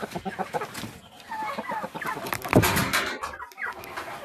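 Leghorn and Sasso laying hens cluck busily at feeding time, a close, overlapping chorus of clucks and short squawks with scratchy movement throughout.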